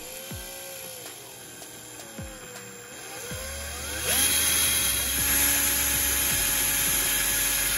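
A power drill bores pilot holes into the side of a Billy bookcase, with short whirring bursts that spin down, then a longer, louder sustained run, close by.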